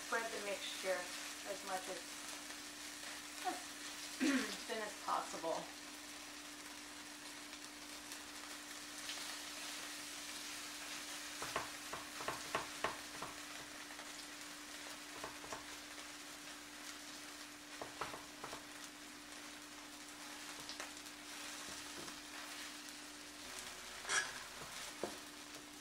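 Korean mung bean pancake batter fries in a pan with a steady quiet sizzle and crackle, close by, while a voice talks intermittently over it.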